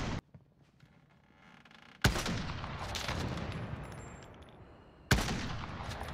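Gunfire in Call of Duty: Warzone, two sharp loud reports a few seconds apart, each followed by a lingering noisy tail over quiet background.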